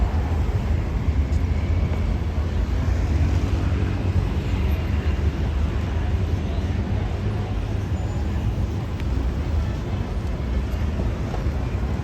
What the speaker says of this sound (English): Look at all this traffic, everybody.